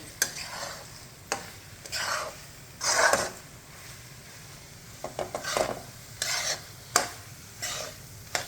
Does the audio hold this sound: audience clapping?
no